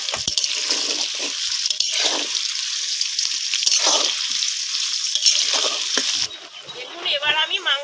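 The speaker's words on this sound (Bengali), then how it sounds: "পেঁয়াজটা বেশি ভাজবো না, 2 মিনিট একটু ভেজে নেব" Onions added to already fried potatoes sizzle in a pan on a village clay stove for a chicken curry, a loud continuous hiss broken by stirring scrapes, with a voice talking at the end.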